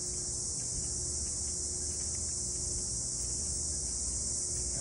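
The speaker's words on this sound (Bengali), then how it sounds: "একটা আওয়াজ শুনতেছেন, হয়তো বলে না ঝিঝি পোকার আওয়াজ, ওই ধরনের একটা আওয়াজ আসতেছে এই জঙ্গল থেকে।" Steady, dense insect chirring, likely crickets, drifts out of the jungle at dawn around a quiet resort walkway. It holds as an even high drone throughout, with faint low background rumble and no talking.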